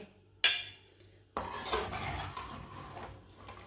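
Potato masala gets spooned onto a plate. A sharp metallic clink of a spoon on a utensil is followed by about two seconds of scraping and clattering against the dish, close by.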